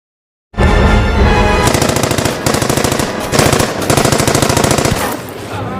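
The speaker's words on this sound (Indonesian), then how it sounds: "Lalu dengan penuh gaya si Agnes menembak si Gary hingga meninggal." Rapid automatic gunfire from a character shooting in a video game, loud and close, starting abruptly after a brief silence and continuing in sustained rattling bursts with a short dip partway through.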